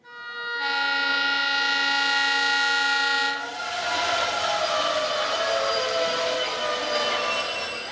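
A train pulls into a station with people travelling to a rally in Colombo. A loud sustained horn blast lasts about three seconds, then gives way to a steady rumble of rolling wagons close by.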